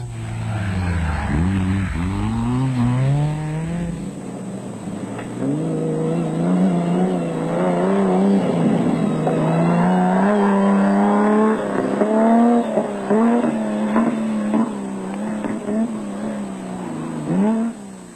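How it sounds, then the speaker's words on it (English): A 6-cylinder Castrol Toyota Land Cruiser race truck ploughing through thick sand in a South African off-road race, its engine droning and revving steadily and loudly throughout. "they ploughed through the thick sand which sapped the power of their 6-cylinder Castrol Toyota Land Cruiser"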